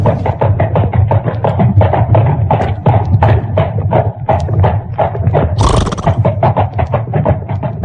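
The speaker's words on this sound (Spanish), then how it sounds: "escucharon el tropel de unos caballos que bajaban de la montaña." Horses gallop down a mountain as a sound effect, with a dense, steady rhythm of hoofbeats drumming loudly and continuously throughout, plus one brief sharper burst partway through.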